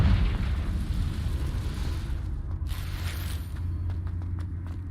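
A Confringo fire spell exploding in the game Hogwarts Legacy, a loud continuous low rumbling blast that rolls on for several seconds and then thins into crackling debris.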